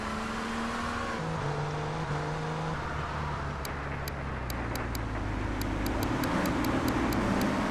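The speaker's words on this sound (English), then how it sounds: "Got this Infernus vehicle." An Infernus sports car in Grand Theft Auto 3 drives at speed, its engine droning and shifting pitch through gear changes under steady road noise, with a series of short high beeps near the end; loud and continuous.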